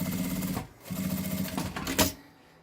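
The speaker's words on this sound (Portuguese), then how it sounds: "e vou costurar o outro ladinho." Sewing machine stitching a double card wallet, quick steady whirring bursts separated by short pauses, close and fairly quiet.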